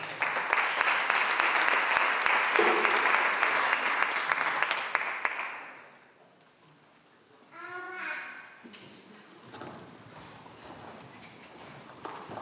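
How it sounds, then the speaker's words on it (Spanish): An audience claps loudly after a piano performance at a music school closing ceremony, dense steady applause that fades out midway, followed by quieter scattered sounds and brief voices. "un fuerte aplauso para Alba."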